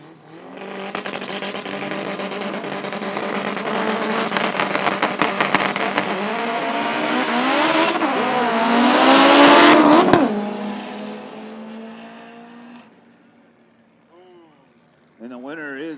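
Front-wheel-drive cars in a no-prep drag racing final at Toronto Motorsports Park, loud engines roaring and revving hard as they launch and pull away, rising then fading into the distance, with people talking nearby.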